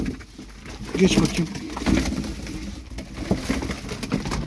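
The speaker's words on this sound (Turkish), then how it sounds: "Şimdi teker teker kanat verelim uçuracağımız kuşlara." Domestic flying pigeons in a loft coo repeatedly, soft and near, with wing rustles and someone talking over them.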